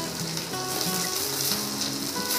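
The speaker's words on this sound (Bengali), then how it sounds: "এখানে কেটে রাখা বেগুন আর আলুগুলোকে দিয়ে হালকা করে আমি ভেজে নেব।" Pieces of eggplant and potato fry in hot oil, giving off a steady, close sizzle that runs without a break while faint tonal sounds play underneath.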